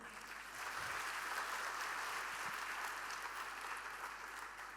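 An audience claps in a steady, even burst lasting a few seconds, moderately distant and without speech over it, with a faint low hum underneath.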